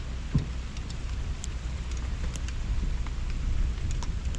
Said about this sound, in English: Oh God, I think it's hail now.